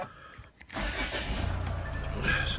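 A 2014 Land Rover Freelander HSE automatic starts up: a short crank after a brief quiet gap, then the engine catches and settles into a steady idle, close by and moderately loud.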